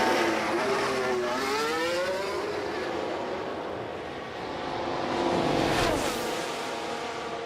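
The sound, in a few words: F1 race cars in video game F1 Manager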